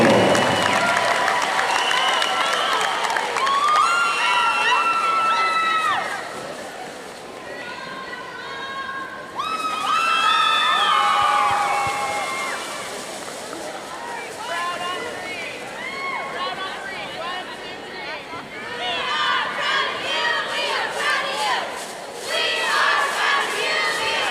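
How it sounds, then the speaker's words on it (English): A crowd at a high school basketball game applauds and cheers for Tuba City High School athletic director James Rowe, loud shouts and whoops rising and falling in waves over sustained clapping, with voices calling out throughout. "please give a warm and appreciative applause to Mr. James Rowe, Athletic Director from Tuba City High School"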